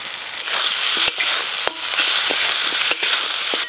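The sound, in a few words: fried fish head and spices being stir-fried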